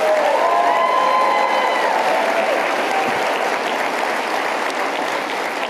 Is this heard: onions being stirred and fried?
no